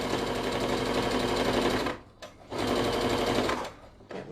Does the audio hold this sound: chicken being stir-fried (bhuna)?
no